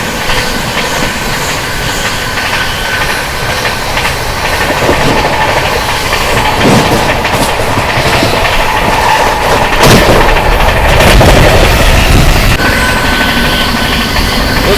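The Sampoorna Kranti Express (12394) rushes along at around 130 km/h, making a loud, continuous roar of wheels and wind with faint rhythmic clatter and rising surges throughout, with no voices.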